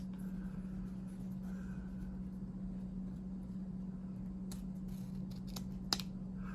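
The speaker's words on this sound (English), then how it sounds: "So let's trim this ribbon straight." Scissors trim ribbon straight for the tails of a handmade bow, with a few faint snips near the end over a steady low background hum.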